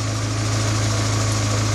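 A 1988 Suzuki Samurai's 1.6-liter 16-valve engine idles steadily with a low, even rumble and faint mechanical vibration, close and continuous with no talking.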